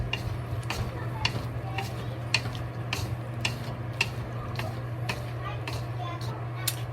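A spatula stirs fried cauliflower with sausage and chopped parsley in a pan with the stove off, a steady run of crisp scraping taps over a low hum, a voice heard faintly.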